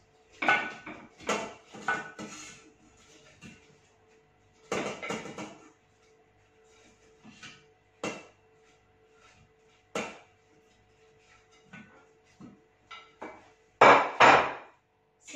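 Pork ribs dropped into a Thermomix bowl, a series of hard clunks and knocks against the bowl in irregular bursts, loudest near the end, with quiet gaps between.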